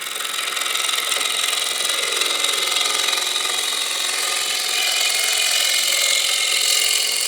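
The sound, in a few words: wood lathe spinning bowl, cut with Hurricane carbide tool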